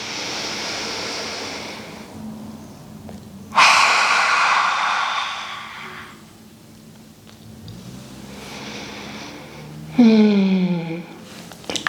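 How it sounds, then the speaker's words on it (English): A child-oriented yoga lion breath exercise: a deep noisy inhale followed by a long, forceful open-mouthed exhale, then another strong breath ending in a voiced, growl-like huff, close and fairly loud with no talking. "Blow it out with that lion breath."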